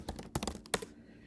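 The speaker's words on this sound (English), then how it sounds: "I'm gonna type in Google Tuner" Keys on a computer keyboard are tapped in a short, uneven burst of light clicks, close and fairly quiet, ending in silence.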